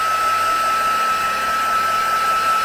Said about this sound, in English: let's get a heat gun out and do a good dry